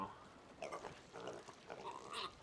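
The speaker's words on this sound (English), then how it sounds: "and now we got some pigs, which we have to constantly keep fed" Pigs in a video game give a few short oinks and grunts in quick succession, quiet and close, with no one talking.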